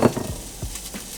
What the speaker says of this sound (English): Gonna throw it in a nice hot pan. Get that sizzle going.